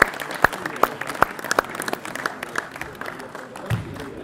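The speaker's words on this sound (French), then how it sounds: "on peut les applaudir" An audience at a youth sports coaching conference applauds players after a drill, with a steady wash of scattered clapping and a few sharper nearby claps over a background murmur.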